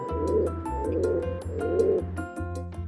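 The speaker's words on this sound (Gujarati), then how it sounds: "કબૂતર ઘૂ ઘૂ કરે," A pigeon coos in repeated low, soft phrases over steady background music with a bouncy tune.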